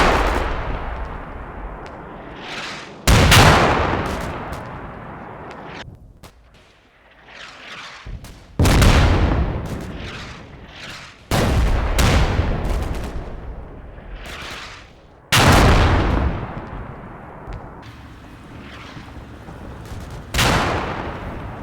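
Mortar shells bursting around a bridge in the Cold War tactical game Combat Mission Cold War, five or six loud booming blasts at irregular intervals, each with a long rumbling decay, interspersed with quieter distant thuds.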